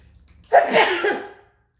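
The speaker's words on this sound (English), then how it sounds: "I have big sneezes. I have a big sneeze coming." A single loud, explosive sneeze bursts out suddenly and fades over about a second, close to the listener with no other sound around it.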